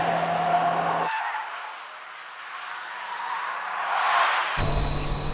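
A Fiat 500 with a Dualogic gearbox races a VW Polo, March, Swift, Passo and Fit around a circuit. A loud engine drone drops to a muffled rush, swells again, then the full engine note returns close by.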